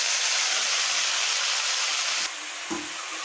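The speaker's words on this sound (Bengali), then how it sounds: "দুটো কাঁচা লঙ্কা ফোড়ন দিলাম একটু পাঁচ ফোড়ন দেব সর্ষে একটু সর্ষে ফোড়ন দিলাম" Green chillies, panch phoron and mustard seeds sizzling in hot oil, a loud, even crackling hiss that drops off abruptly near the end, leaving quieter frying, with no one talking.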